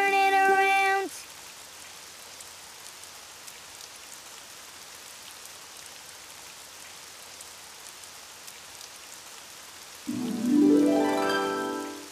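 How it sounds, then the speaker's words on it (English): Steady rain falling outside, a soft even hiss filling the middle of the clip, framed at the start and end by bright tonal music that sits over it. "Oh, it's raining outside."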